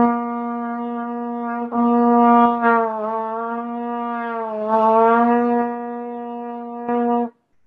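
A brass instrument sustains one steady, loud tone without valve or slide changes, re-tongued a few times with slight bends in pitch and a swell in volume, then stops abruptly.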